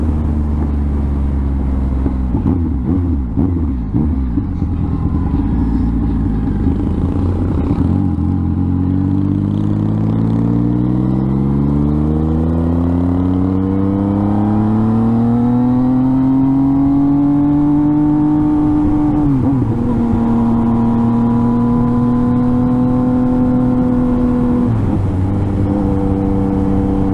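A motorcycle carrying coal on the back rides along doing wheelies, its engine loud and close as it idles, then revs and climbs steadily in pitch, drops briefly and holds a high steady whine, with no talk.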